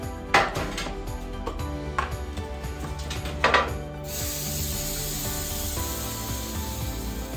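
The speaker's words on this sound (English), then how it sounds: "You're going to want to take and spray a baking sheet." A long, steady hiss of nonstick cooking spray onto a baking sheet starts partway through, preceded by a few clattering knocks and handling noises.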